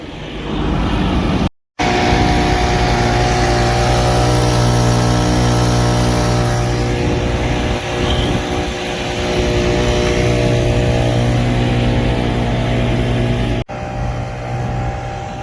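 A 1-inch Honda gas pump engine runs on a farm fuel trailer with a 1,000-gallon tank, a loud steady small-engine drone close by with two brief dropouts.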